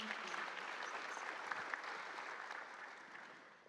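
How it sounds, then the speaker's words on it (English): Audience applause for panelists at an ocean-themed nature summit session, a dense steady wash of clapping that tapers slightly toward the end. "can we have a round of applause for our panelists, please?"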